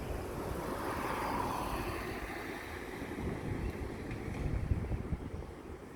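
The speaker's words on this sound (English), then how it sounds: "if you look carefully, it's windy now" Wind rushes and buffets outdoors in a broad, steady roar with gusty swells, no voices.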